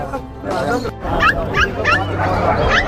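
Puppies at a pet market in Chennai bark and yip in quick, high, repeated bursts. The barking comes close and fairly loud over a busy, noisy background.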